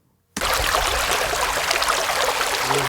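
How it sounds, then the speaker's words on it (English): Field-recorded flowing water starts abruptly after a brief silence and then runs as a steady, close rushing hiss, with a little wind noise underneath. "So here's our water sound that we recorded."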